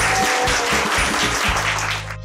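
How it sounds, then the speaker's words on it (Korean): Studio audience applause on a talk show, loud continuous clapping that holds steady and then tapers off at the end. "박수 주십시오."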